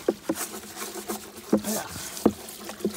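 Scrubbing of wet horse tack in a barn to remove black gunk, with short rhythmic brushing strokes and light watery rubbing up close, a brief groan from a person among them.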